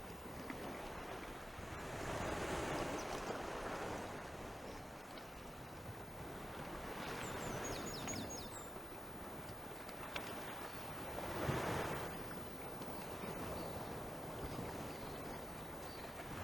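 Surf rolling onto Heywoods Beach at daybreak, soft broad swells of wave wash rising and falling in slow surges, with wind buffeting the microphone and no talking.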